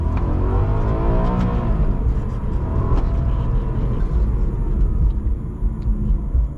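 Warmed-up 2006 Maserati Quattroporte engine accelerating through a pull, heard from inside as a steady, loud low rumble with a rising drone and constant road roar, no voices.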